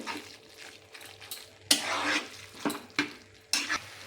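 Chicken bharta being stir-fried with slit green chillies in a pan, with steady close sizzling broken by several loud scraping, clattering stirs of a spatula against the metal pan, with no talking.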